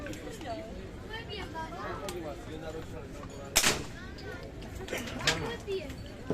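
Air-rifle shots at a shooting game stall in Kato Paphos harbour, Cyprus, where a man aims at a bottle of whisky: two or three sharp cracks ring out over steady crowd chatter and children playing nearby.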